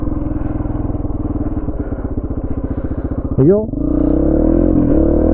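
Yamaha XTZ125 motorcycle engine running steadily, then a quick throttle blip during a downshift with a rising rev and drop back, close up; a rider speaks briefly.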